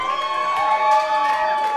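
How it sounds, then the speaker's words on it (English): A comedy festival audience in Guelph, Ontario cheers and applauds a comedian being welcomed to the stage, a lively mix of clapping and shouts rising and falling over a couple of seconds. "I want you to put a nice, warm round of applause together for Jackie Pirgo"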